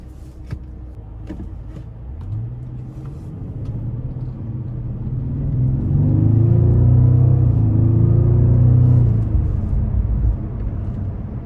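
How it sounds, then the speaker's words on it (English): A 2012 Bentley Continental Flying Spur Speed with a twin-turbo engine pulls smoothly through its gears from inside the cabin, a low steady rumble swelling to a fuller drone mid-way, then easing slightly, with no talking. "And this car really does just move through the gears so effortlessly."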